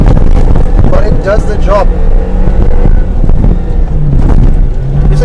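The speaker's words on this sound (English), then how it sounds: "This 4 low is revving way too much." A 2019 Suzuki Jimny's small engine drones and revs steadily in four-wheel-drive low range over rumbling wind noise, with a person talking over the constant loud mechanical roar.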